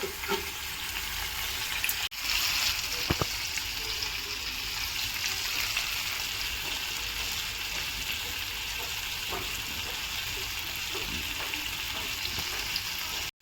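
Bangda mackerel fry in a pan, giving a steady close sizzle that runs without a break, with a knock near the start and a few faint clinks.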